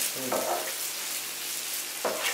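Butter melting and sizzling in a pan for egg bhurji, a steady close hiss broken by two short scraping stirs of a utensil.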